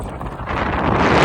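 Strong gusts of wind from Hurricane Helene buffet the microphone at Apollo Beach on Tampa Bay, a steady broadband roar that swells louder toward the end, with no talking.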